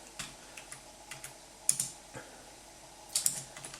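Scattered keystrokes on a wireless computer keyboard, tapping at an uneven pace, with a few sharper clicks standing out, close by and fairly quiet.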